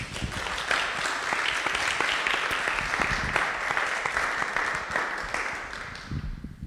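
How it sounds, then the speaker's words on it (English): Applause from a panel audience at a live-streamed event, a steady wash of many hands clapping that holds level and then fades slightly at the end. "can we get a round of applause for Susan, please?"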